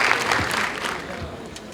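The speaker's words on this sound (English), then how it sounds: "Clap for yourself." A short burst of audience applause at a CEO summit, many hands clapping steadily at moderate loudness.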